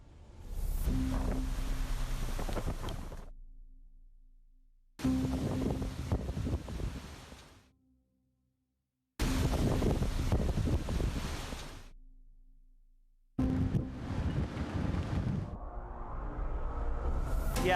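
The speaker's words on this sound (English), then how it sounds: "we've seen wind gusts in Wilmington as high as 105 miles an hour" Hurricane Florence's wind gusts roar and buffet the microphone near Wilmington on the Cape Fear coast. Loud, rushing bursts are separated by abrupt gaps of silence.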